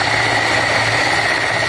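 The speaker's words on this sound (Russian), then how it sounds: "Вертолет заводят." A helicopter engine starting up outdoors, a loud, steady whining drone with a constant high tone over low rumble, close and unbroken, with no talking.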